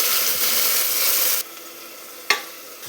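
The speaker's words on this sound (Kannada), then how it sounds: "ಎಣ್ಣೆಯಲ್ಲಿ ಒಂದು ನಿಮಿಷ ಫ್ರೈ ಮಾಡ್ಕೊಳ್ಳೋಣ" Onion and a ground spice paste fry in hot oil in a pan, sizzling loudly for over a second, then dropping to a softer hiss broken by a single sharp utensil clack, with no voices.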